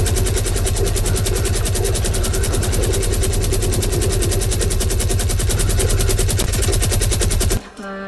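A minigun in Fortnite fires a continuous, rapid, loud stream of shots for several seconds, then stops abruptly, leaving a low hum.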